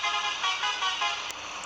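A private bus horn in a Kerala bus simulator game sounds as a sustained, loud, brassy blare with slight pulsing, alone without speech.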